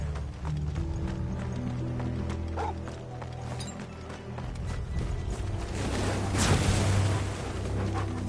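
Steady clip-clop of horse hooves in Final Fantasy XVI under a low rumbling music bed, with a brief whinny-like cry and a swell of noise near the end.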